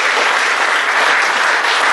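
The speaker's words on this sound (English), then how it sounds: "Give Wendy a round of applause." A banquet audience gives a round of applause for Wendy, a short, steady wash of close, loud clapping with no pauses.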